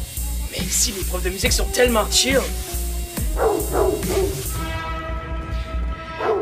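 A new school bell that sounds like a dog barking gives repeated bark-like yaps and whimpers in an irregular rhythm, fairly close, while people talk over it throughout.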